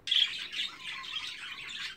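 Budgerigars in an aviary squawk and chirp together, a dense, continuous chatter of high, bright calls that stays close and fairly loud throughout.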